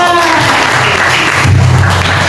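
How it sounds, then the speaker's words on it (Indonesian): A class of students at a Fiqh lesson applauds together, a dense steady wash of clapping that stays loud for the full stretch with no clear talk on top. "tepuk tangan semuanya"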